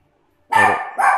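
A dog gives two sharp, loud barks close by, the first longer and the second clipped, after a stretch of silence.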